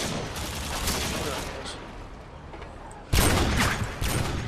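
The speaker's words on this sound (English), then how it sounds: "Why are you shooting at me, you fucking idiot?" Gunfire in a Modern Warfare 2 free-for-all match: bursts of rapid shots and a sharp louder volley near the end, dense and close, with a player's voice talking over parts of it.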